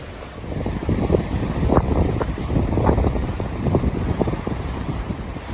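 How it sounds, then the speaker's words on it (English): Chilly wind blowing outdoors on the Appalachian Trail in Maine, a loud steady rumbling gust buffeting the microphone throughout with no talk. "Some chilly wind."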